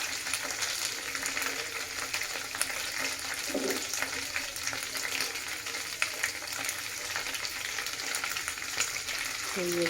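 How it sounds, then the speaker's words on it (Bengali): Homemade chicken chops fry in oil over a low flame, a continuous dense sizzle that stays steady and close throughout with only faint background sounds. "অল্প আগুনের মধ্যে এটা ভাজবে"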